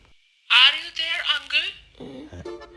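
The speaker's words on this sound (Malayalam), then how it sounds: "ബംബ്ലിന്നൊരു മെസ്സേജ്" Bumble dating app message notification on a phone: a loud, bright tonal chime lasting about a second, followed closely by a voice speaking.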